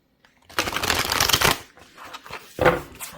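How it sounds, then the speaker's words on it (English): Self-Care Oracle cards are riffled in one close, crisp shuffle lasting about a second, followed by a brief pause and a short final flick as the deck settles. "One more shuffle."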